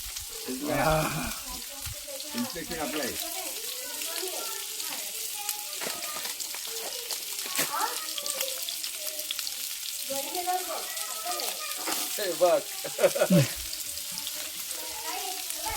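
Fully cooked chicken frying and sizzling in butter, a continuous hiss with stirring and scraping in the pan, close and steady, while voices talk intermittently over it.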